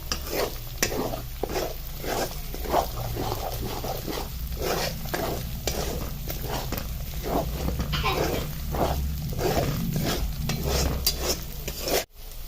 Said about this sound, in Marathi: दोन मिनिटाची चांगली परतून घ्यायची आहे तेलामध्ये